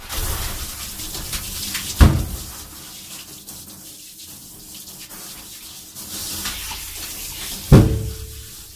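Water runs steadily over a dog being rinsed in a grooming tub, a continuous close rushing hiss with two sharp louder splashes, with no talking.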